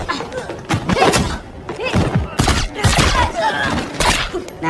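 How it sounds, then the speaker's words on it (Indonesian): Gunfight scene from the action film Triple Threat, with rapid bursts of gunfire, thuds and crashes packed closely together, loud and dense against a busy soundtrack. "Hingga akhirnya Colin menyadari hal tersebut, aksi tembak-tembakan pun terjadi."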